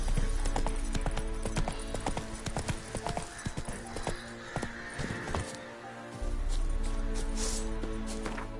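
Hooves of a horse galloping in The Witcher 3 on PS5 pound in a fast, steady clip-clop close up, with a brief pause in the low rumble midway and a possible snort, no clear talk.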